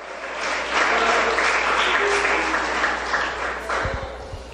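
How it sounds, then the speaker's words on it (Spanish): A church congregation at a Spanish-language service breaks into applause for God, a broad steady clapping that swells and fades slightly, with faint voices beneath. "Den un aplauso al Señor, hermanos."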